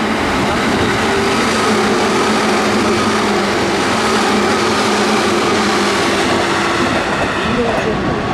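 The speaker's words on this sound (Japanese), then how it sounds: "まもなく2番ホームに各駅停車田無行きが8両編成で参ります" An eight-car Seibu Shinjuku Line local train rumbles steadily into Higashi-Fushimi station, a dense continuous roar of wheels and motors that holds evenly loud the whole time.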